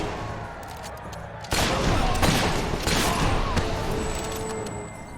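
Gunfire in the video game Fable erupts as a dense, loud volley of overlapping shots after a quiet start, with sharp cracks and rattling bursts continuing at close range to the end.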